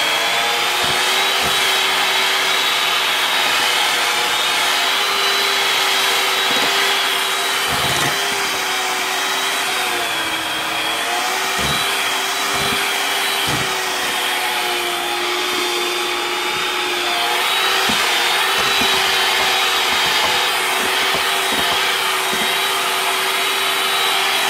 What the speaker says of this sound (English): We're going to have to mix it together with the mix master.